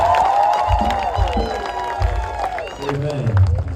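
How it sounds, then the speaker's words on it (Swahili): A church congregation at a Kenyan crusade claps and cheers for Jesus, with crowd noise and voices mixed through a steady, loud wash of sound. "Pigia Yesu makofi mazuri."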